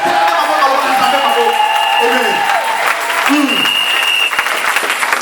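A church congregation applauds during a sermon, a dense, steady roar of clapping from a large crowd that fills the whole stretch, with voices calling out and cheering under it.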